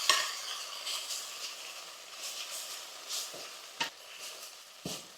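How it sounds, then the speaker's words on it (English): Garlic cloves toasting in a pan over reduced heat, a soft continuous sizzle with occasional utensil clinks and scrapes against the pan, fairly quiet and without talk. "Reduce the heat while the garlic gets lightly toasted."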